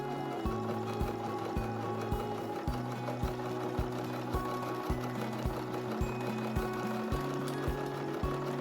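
Sewing machine stitching embellishment onto jeans, a steady rapid mechanical whirring hum with a regular chugging rhythm, close and continuous with no talk.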